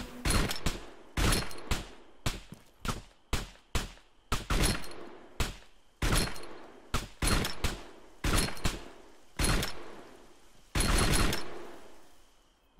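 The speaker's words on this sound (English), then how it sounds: "We began taking fire. So I of course return fire here." Gunfire exchange in Arma 3, loud bursts of rifle and automatic fire in close, irregular volleys with brief gaps between shots, no voices.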